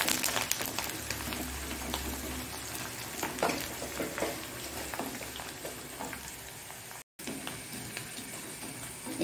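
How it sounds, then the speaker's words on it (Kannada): Chopped onion drops into hot coconut oil for tempering and sizzles steadily, a close, even frying hiss with a brief stirring scrape, no voices. "ಅದರೊಟ್ಟಿಗೆ ನೀರುಳ್ಳಿ ಬೀಳುವಾಗ ನೋಡಿ"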